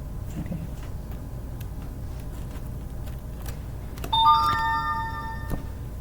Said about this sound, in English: I cannot listen to that bell the whole time